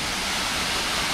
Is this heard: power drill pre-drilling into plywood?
no